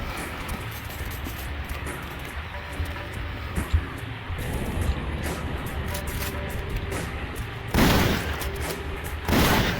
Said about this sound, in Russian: Я думал, одним выстрелом получится их убить, но нет.